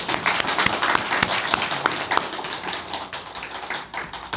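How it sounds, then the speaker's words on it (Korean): A church congregation claps at an Easter Sunday service, a fairly close burst of individual hand claps with an uneven, lively rhythm that continues throughout. "우리 박수 한번."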